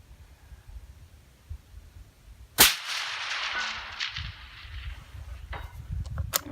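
A single loud rifle shot from a Ruger Precision Rifle in 6.5 Creedmoor with a Criterion barrel, firing 175 grain ELD bullets at a long-range setting, cracks sharply and leaves a long fading rumble over quiet outdoor background.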